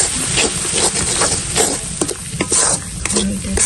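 Spices and chili frying in a pan for a spicy fish curry, a loud steady sizzle with a broad hiss and repeated scraping stirs throughout, close up, no talk.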